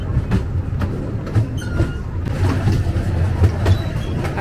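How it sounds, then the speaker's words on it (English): Rumbling ride on a small steam train at Bressingham Steam Museum, with a steady low drone, rhythmic clicks and clatter from the rails, close and fairly loud. "Hope you're enjoying the little train ride with me."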